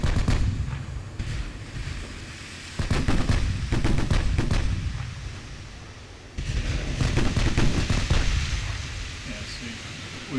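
Naval guns fire in the warship battle game Ultimate Admiral Dreadnoughts, with repeated booming shots and sharp cracks over a constant low rumble of battle noise.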